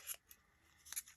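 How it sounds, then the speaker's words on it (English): Scissors snip through paper scraps for a shabby chic craft cluster, two quick crisp cuts close up with a short quiet gap between them. "A little long. Let me cut this."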